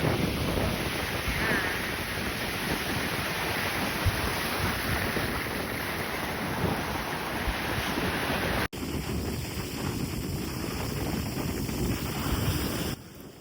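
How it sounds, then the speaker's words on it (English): Strong wind roars steadily across the microphone by the sea at St. Lucia, South Africa, with waves surging underneath, continuous and loud throughout, with a brief cut partway. "it was very windy"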